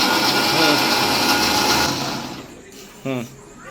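A mixer grinder whirs loudly as it blends coriander leaves in a home kitchen, a steady motor drone that fades out, then a short burst of spinning near the end, with voices talking over it.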